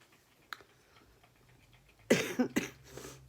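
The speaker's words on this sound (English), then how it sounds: "And excuse my coughing." A person nearby coughs several times in a quick cluster after a quiet stretch with faint ticking.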